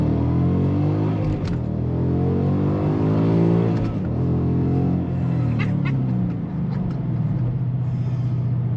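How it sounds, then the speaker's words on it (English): A Ford Mustang engine revs hard while driving, loud and continuous close up, with rising and falling pitch sweeps as it accelerates through gears. "I love the way the Mustang sounds when you get on her and drive her like you should"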